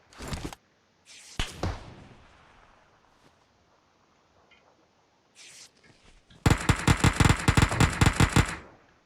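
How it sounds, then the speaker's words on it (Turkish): Uzi submachine gun in PUBG Mobile: a few short sharp shots early on, then a loud rapid burst of about a dozen rounds near the end, close and unaccompanied by talk. "Uzi ile bayılttım adamı"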